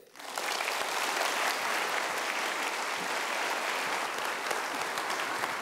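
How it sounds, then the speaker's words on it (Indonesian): A studio audience at the Indonesian talk show Kick Andy breaks into loud, sustained applause for an arriving guest, steady dense clapping from start to finish. "Mari kita berikan aplaus untuk Arwin Rashid."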